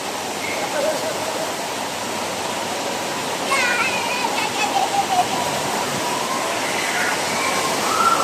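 Wave pool at Desert Falls Water & Adventure park in Qatar, a continuous loud rush of churning water with faint voices and brief tonal sounds of people in the background.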